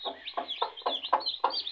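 A hen clucks close by to her chicks in a quick, regular series of about six soft, throaty clucks, with faint high peeping from the chicks mixed in.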